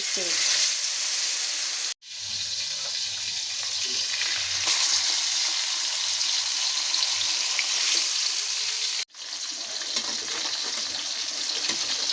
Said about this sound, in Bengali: আমি এখানে কড়াইতে তেল বসিয়ে দিয়েছিলাম সেটা মধ্যে আমি মাছটা দিয়ে দিলে